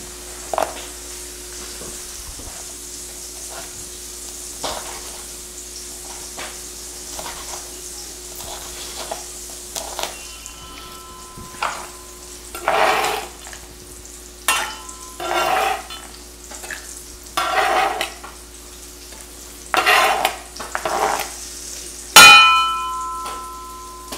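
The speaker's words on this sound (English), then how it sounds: "It's frying away." Food sizzles quietly in a frying pan while utensils scrape and clink intermittently, with a few louder stirring bursts later on.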